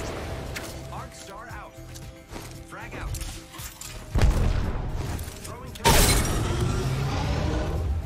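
An Apex Legends frag grenade blasts with a sudden loud boom, followed by a second heavy burst and a lingering rumbling tail, over background game sounds and faint chatter.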